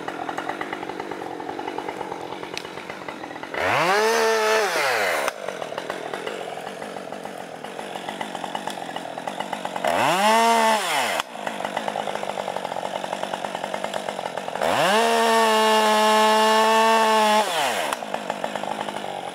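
A chainsaw cuts timber during processing work on a cleared site, three loud revving bursts rising and holding before dropping back to a steady idle between them.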